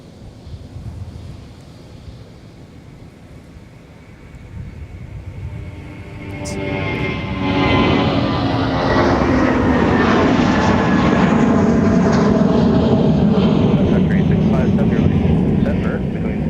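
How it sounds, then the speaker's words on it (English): A United airliner climbs out after departure from MSP airport, its jet roar swelling from a distant rumble to a loud, sustained rush, with people talking over it. "Climbing out is United, flight 2272, heading off to Denver, Colorado"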